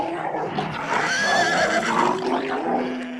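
A little white horse whinnies in a rising, wavering neigh, close and clear against a quiet night.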